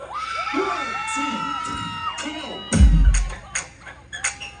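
A crowd at a live dancehall show in Trelawney screams and cheers over a performer's amplified voice, swelling into a loud burst of shouting near the end before trailing off into scattered yells.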